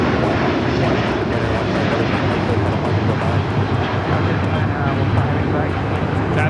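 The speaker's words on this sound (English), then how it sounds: "That is Japan Airlines Flight 15 taking off to Tokyo Haneda on the A350 1000." A Japan Airlines Airbus A350-1000 takes off from Los Angeles airport, its engines a continuous broad, heavy roar that holds steady throughout, with indistinct voices faintly underneath.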